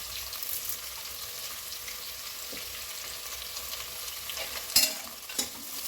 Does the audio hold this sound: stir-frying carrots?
yes